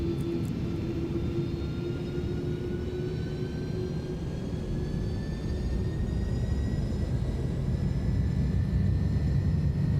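Airbus A310 jet engines at takeoff thrust in Microsoft Flight Simulator 2020, a steady loud roar with a low rumble and rising whine tones held throughout, no talk.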